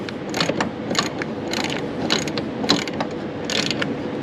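A small ratchet tightens a nut during a zero-turn mower drive pump replacement, giving quick repeated clicking strokes in short bursts, close and fairly quiet, with no talking.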